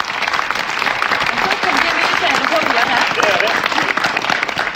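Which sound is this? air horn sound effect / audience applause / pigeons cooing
audience applause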